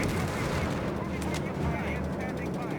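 Gunfire in the video game Company of Heroes 3 during a North Africa battle, a dense, continuous roar of machine-gun bursts and heavier blasts, loud and overlapping throughout, with shouted voices mixed in.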